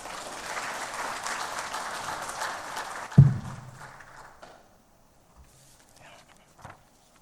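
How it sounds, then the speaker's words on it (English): An audience at a government peace and conflict-prevention forum applauds, steady dense clapping that ends abruptly with a thud and fades out, leaving near silence and a little faint rustling. "A round of applause, please."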